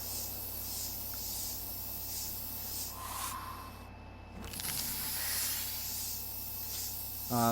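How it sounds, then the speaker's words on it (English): In the Memory of Mars video game, a medical spray is applied as a soft, steady hiss over ambient game noise, with a brief louder spray burst in the middle and no talk. "I'm just gonna put on a little bit of spray here."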